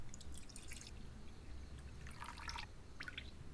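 Faint trickles and drips of water draining from ingredients soaked five hours for dosa batter, in a few short bursts over a quiet background.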